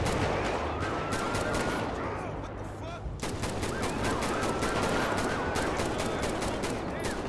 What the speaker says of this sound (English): They still shooting, bro.